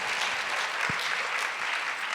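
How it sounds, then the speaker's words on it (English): Audience applause at a university speaker event, a steady dense wash of clapping throughout with one brief low thump in the middle and no talking over it. "You can clap again."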